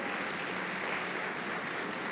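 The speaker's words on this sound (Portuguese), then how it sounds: "Dê uma salva de palmas, Senhor" A church congregation applauding during a service, a dense, even wash of clapping at steady moderate loudness, with no talk over it.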